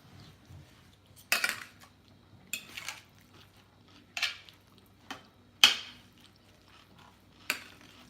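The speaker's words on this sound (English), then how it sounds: "I am gonna mix it all together." Cutlery clinks and scrapes against a dish while pot roast is mixed together, a handful of separate sharp clatters spaced a second or so apart at close range, with quiet stretches between and no talking.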